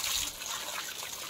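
Water being splashed and played with outdoors in a village, a steady close rush of liquid noise running through the whole short stretch with no talking.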